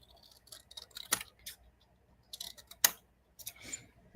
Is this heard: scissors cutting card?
yes